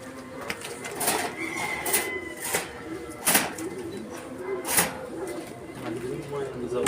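Pigeons in a pigeon loft coo softly, with occasional wing flaps and light shuffling. People talk nearby throughout.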